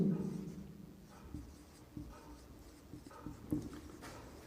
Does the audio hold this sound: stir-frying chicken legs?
no